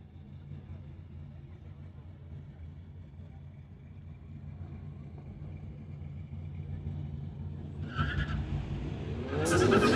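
Two Volkswagens, one a 2014 Beetle, launch in a street-legal drag race at a track: a low engine rumble builds, then a loud roar and tire noise surge near the end as the cars leave the line.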